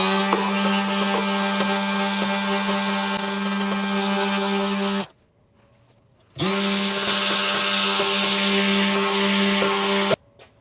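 A Milwaukee M12 cordless sander running at maximum speed, a loud steady high-pitched hum with strong tonal whine, cutting off for over a second midway before starting again, then stopping at the end.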